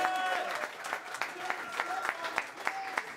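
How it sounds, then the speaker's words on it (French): Audience at a French-language rap battle applauds a contender from Montréal, a steady wash of many hands clapping with sharper individual claps standing out and voices mixed in underneath. "Des applaudissements pour Montréal."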